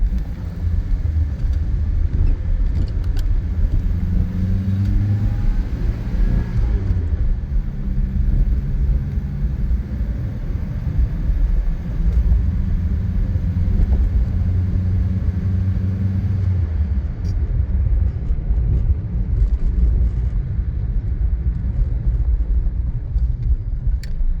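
A 1988 Pontiac Fiero drives on the road after sitting for almost two years, its steady low engine rumble and road noise continuous and fairly loud throughout, with no talking.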